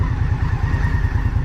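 An Indian Scout motorcycle is ridden with its engine loud and close, a throbbing low pulsing rumble with rapid regular firing beats, continuous through the short moment and without voices.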